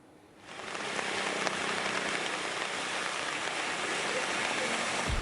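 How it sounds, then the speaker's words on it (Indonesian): Heavy rain pours down steadily in Kelapa Nunggal, Bogor, West Java, swelling within the first second into a dense, loud, continuous hiss of drops on surfaces with no voices over it. "Hujan deras yang mengguyur sejak Rabu siang"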